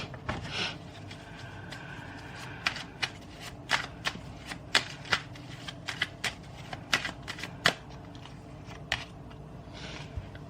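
Tarot cards being shuffled by hand close up, a steady run of crisp riffling flicks and sharp card snaps, with no talking.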